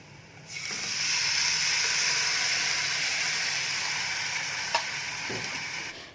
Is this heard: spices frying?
yes